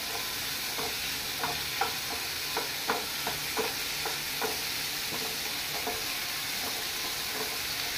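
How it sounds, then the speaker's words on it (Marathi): Onion and tomato masala for matar paneer fries with a constant sizzle, overlaid by a steady series of light spatula taps and scrapes as it is stirred, close and without voices. "हे पळय मसालो आय मीन कांदो आनी टोमाटो भाजपाचे"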